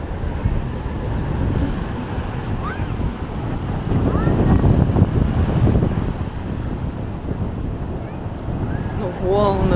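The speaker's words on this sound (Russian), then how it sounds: "волны" Sea waves wash steadily under strong wind buffeting the microphone at a beach near Makhachkala, with a few brief voices and calls heard faintly over the surf.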